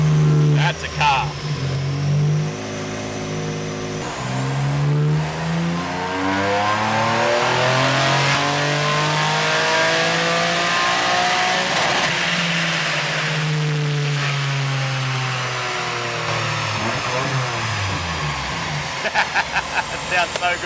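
A powerful built car with its exhaust valve opened revs hard on a dyno, the engine climbing and sweeping through long loud pulls, then popping and crackling at the end, with people talking over it.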